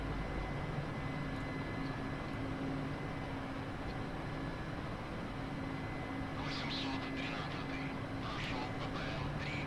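Helicopter engine and rotor running steadily in the DCS flight simulator during an oilfield campaign, a constant loud droning hum throughout, with faint higher chirps near the end.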